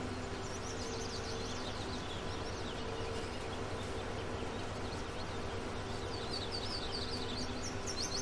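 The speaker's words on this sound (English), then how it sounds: "there's a lot of birds in this game. You hear them all the time, constantly chirping" Steady high chirps and tweets from several birds in Farming Simulator 19 repeat over a constant outdoor hum, fairly quiet and continuous throughout.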